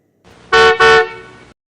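Truck horn honking loud and close, two sharp blasts followed by a longer, fading tone.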